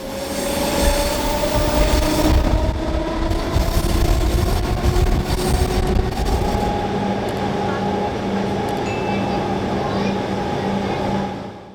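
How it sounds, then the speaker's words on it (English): A Vienna S-Bahn S45 train on the Vorortelinie enters a roughly 800-metre tunnel, giving a loud, steady rumble with rising wheel squeal and a hollow, enclosed roar that holds throughout. "Directly after Wien-Breitensee, the train enters into a roughly 800-metre long tunnel."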